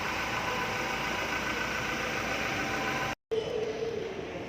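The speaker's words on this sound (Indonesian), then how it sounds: "Dengan mesin baru, Fortuner jadi lebih halus suaranya." Toyota Fortuner VRZ TRD engine idling, a steady smooth hum with a constant even drone throughout, interrupted by a brief silent cut before the low running sound resumes.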